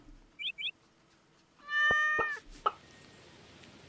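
A cat in Stardew Valley lets out a single drawn-out meow, clear and close against a quiet farm background, with a few soft chirps and game clicks around it.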